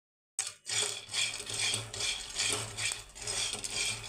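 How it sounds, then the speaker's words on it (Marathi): Dry sago pearls being roasted and stirred in a pan for a Navratri fasting nylon chivda, giving a continuous gritty rattling and scraping that swells and eases with each stir, close up and with no voices. "साबुदाणा आपल्याला इथे कलर बदलेपर्यंत भाजायचा आहे।"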